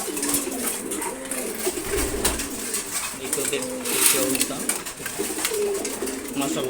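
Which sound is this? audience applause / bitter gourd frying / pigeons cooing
pigeons cooing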